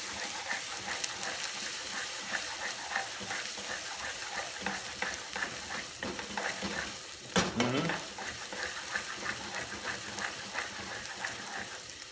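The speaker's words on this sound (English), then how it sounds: "Okay, my onions are now sweated." Onions sautéing in a pan, a steady quiet sizzle and crackle with an occasional stir or scrape of a utensil partway through, close and continuous with no talk.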